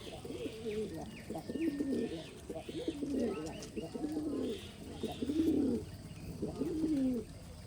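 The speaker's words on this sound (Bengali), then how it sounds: "অনেক কবুতরে ভুট্টা খাচ্ছে বেছে বেছে আর অনেক কবুতরে গম খাচ্ছে" A flock of Giribaz pigeons eating corn and wheat coos continuously in overlapping low, rolling calls nearby, with soft chirps and some speech underneath.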